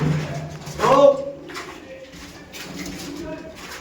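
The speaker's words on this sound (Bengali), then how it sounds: "নিন এই একটা গিরিবাজ পায়রা আছে" A Giribaz pigeon gives a short, low coo near the start, close and fairly clear, followed by quieter murmuring with people talking over it.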